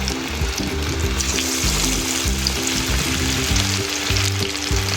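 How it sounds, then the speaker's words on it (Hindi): Fish pieces frying in hot ghee over a medium flame give a loud, steady sizzle that stays close and continuous throughout, with soft stirring and music underneath. "घी हमारा गर्म हो चुका है। अब इसमें मछली के पीस ऐड कर देंगे।"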